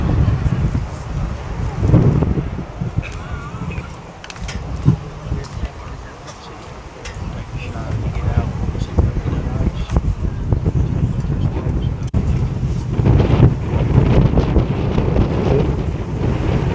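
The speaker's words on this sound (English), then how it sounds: "Windy day here" Strong gusts buffet an outdoor microphone at a cattle show, a heavy low rumbling roar that surges and fades throughout, with faint voices talking underneath.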